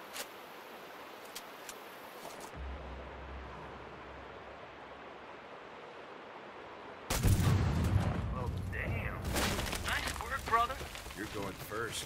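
In Sniper Ghost Warrior 3, an explosive sniper round fires with a sudden heavy boom, followed by several seconds of loud rumbling, crackling blast noise after a quiet stretch of low ambient hum.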